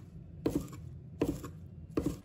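A knife chops fresh green onions into short pieces on a cutting board, three crisp, evenly spaced strikes sounding close and alone.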